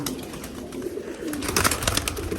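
Pigeons with young chicks in a loft coo and rustle, a steady low murmur of cooing with soft fluttering and scratching noises close by.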